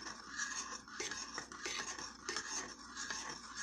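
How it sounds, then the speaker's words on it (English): A spoon stirring cornstarch, brown sugar, nuts, pineapple, raisins and rum together in a bowl for a bread pudding sauce, a quiet steady scraping and clinking with no talk. "So we're gonna stir this up"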